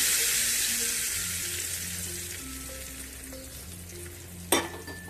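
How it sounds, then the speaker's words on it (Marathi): Hot spice tempering is poured over thick, set buttermilk and sizzles in a steady broadband hiss that slowly fades, with a faint low hum beneath and a sharp clink near the end. "बघा हे आपण ताक तयार केलेलं घट्टसर, त्याच्यावरती आता ही फोडणी घालून देऊ."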